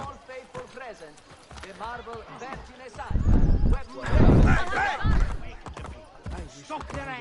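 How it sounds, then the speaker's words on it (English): A horse is called in within the video game Assassin's Creed Brotherhood, giving a whinny and thudding hoofbeats that swell in the middle, with a voice speaking over it. "We're going to call the horse in."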